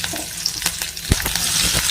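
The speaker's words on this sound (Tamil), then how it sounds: "கடுகு போட்டு கருவேப்பிலை," Mustard seeds and curry leaves frying in hot oil, a loud close crackling sizzle with sharp pops and a stirring clatter, heard alone.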